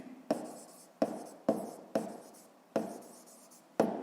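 Chalk or pen strokes writing the hydrostatic pressure formula, six short sharp taps spaced about half a second apart, each with a brief scratchy tail, close and clear with no talking.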